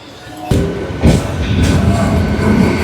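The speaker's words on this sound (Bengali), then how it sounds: "ট্রেন আমাদের হর্ন দিয়ে দিয়েছে, ছেড়ে দেবে" Local train on the Howrah–Digha line standing at a station, about to depart: broadband rumble and sharp bursts of noise as carriages jolt and shift, loud and close, with faint voices around the platform.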